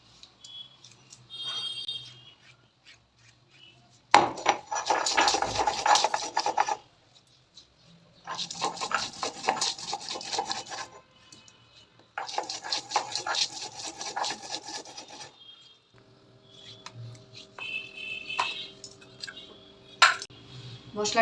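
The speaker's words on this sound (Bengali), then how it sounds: "মশলাটা বাটা হয়ে গেছে" Spice paste for boal fish kalia is ground by hand with rough, rasping scrapes of stone on a grinding surface, coming in three long close bursts separated by short pauses, with faint kitchen clinks between.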